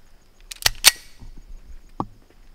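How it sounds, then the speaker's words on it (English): Beretta 92 pistol fired without a suppressor, two sharp close cracks in quick succession followed by a fainter third report, with quiet gaps between. "I'm going to take that off and shoot the Beretta 92."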